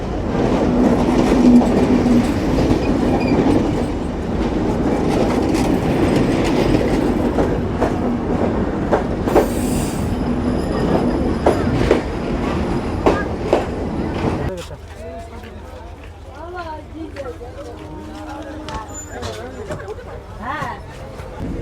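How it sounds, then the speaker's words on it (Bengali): Sagardari Express passenger train with Indian LHB coaches pulling out of Jessore Railway Junction: a steady loud rumble with wheel clatter that suddenly drops to a quieter, thinner rolling noise partway through. "আমাদের ট্রেন ছেড়ে দিল যশোর রেলওয়ে জাংশন"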